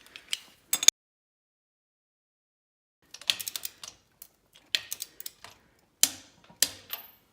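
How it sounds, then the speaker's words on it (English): Torque wrench tightening 3/8 grade 8 bolts to 44 foot-pounds on a 1972 Chevy C10 during a Wilwood brake and coil spring conversion, heard as close, sharp clicking bursts separated by pauses. "I'm torquing these to 44 foot-pounds"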